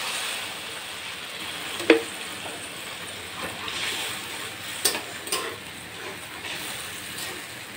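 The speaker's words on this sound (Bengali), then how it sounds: "এদিকে ডিমের ঝোলের মশলা কষাচ্ছি" Spice paste for a Bengali egg curry fries in a pan with a faint, steady sizzle, broken by a few sharp clinks and scrapes of a utensil.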